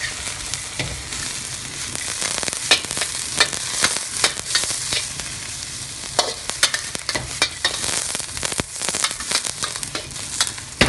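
Vegetables are tossed and stir-fried fast in a hot pan, giving a loud, continuous hiss and crackle with repeated scraping strokes of a utensil close up, without talk.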